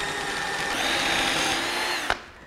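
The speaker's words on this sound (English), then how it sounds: "I'm just using my drill to add these pocket holes." A power drill whirs continuously as it bores pocket holes through a Kreg jig into wood for a rustic dresser, a close steady whine that ends with a short clunk as it stops.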